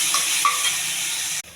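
Onions frying in a pan make a steady, bright sizzling hiss, close and continuous, with a faint scrape of stirring before it cuts off abruptly.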